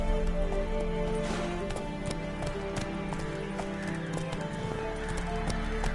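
A horse gallops in The Witcher 3 video game, with a steady rapid clip-clop of hooves, a whinny, and a busy game soundscape around it.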